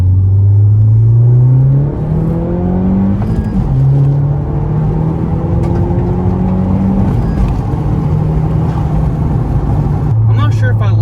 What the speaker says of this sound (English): another feature that I will demonstrate for you right now that this offers is wide open throttle shifting, or no lift shift.